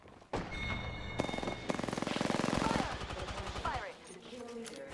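Loud rapid automatic gunfire bursts from Apex Legends gameplay, with sustained rattling volleys and sharp crackling shots over a few seconds, followed by quieter game effects; a voice calls out briefly.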